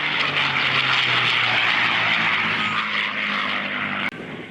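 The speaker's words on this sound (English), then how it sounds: "There's a nice high-speed pass from the Mustang." A P-51 Mustang warbird makes a high-speed pass at an air show, its propeller engine roaring loud and steady for several seconds before dropping off sharply near the end.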